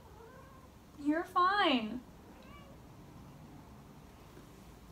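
A cat meows from just outside a closed door, a loud, drawn-out wavering cry lasting about a second, followed by a fainter brief call, with a person speaking quietly nearby.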